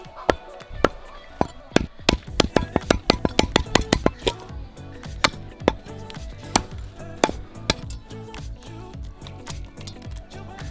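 Village country chicken is chopped into pieces with a series of sharp, close knocking strikes, fast and dense at first, then slowing to spaced, irregular blows.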